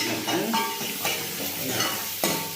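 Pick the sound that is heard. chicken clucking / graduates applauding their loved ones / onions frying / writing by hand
onions frying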